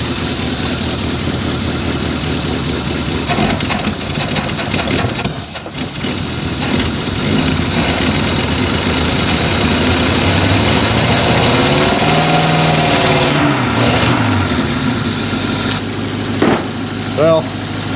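Engine of a vintage Pontiac left sitting for decades cranking and sputtering as it tries to start, a loud, rough, continuous run close by with people talking over it.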